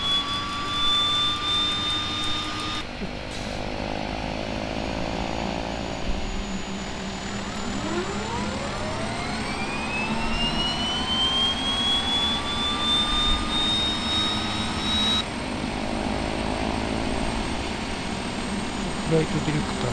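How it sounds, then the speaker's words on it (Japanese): Beechcraft King Air turboprop engines starting up in Microsoft Flight Simulator X, a steady whining turbine tone that climbs in pitch as the engines spool up over a continuous roar, with a brief switch-over partway through. "エンジン始動します。"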